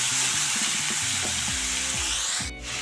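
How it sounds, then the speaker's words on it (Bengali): Vegetables and turmeric sautéed in a pan for a spinach curry give a steady sizzle, with scraping stirs from a spatula and a low tonal hum underneath, and a brief dip near the end. "হলুদটা এখন দিয়ে দিলাম, দিয়ে একটু নেড়ে দেবো"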